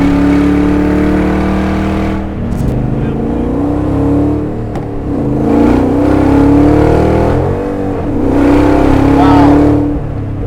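A 1963 Corvette Grand Sport with a 750 HP Lingenfelter LT4 V8 driving, its engine rumbling loudly and rising and falling through revs and gear changes, with voices talking inside the car.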